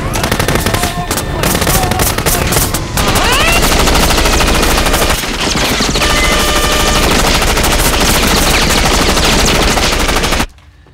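Rapid, continuous gunfire with machine-gun bursts in a comedy TV action scene, loud and dense throughout before cutting off abruptly at the end.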